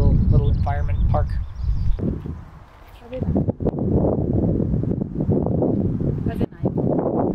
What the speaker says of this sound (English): It's a bit windy, like I keep saying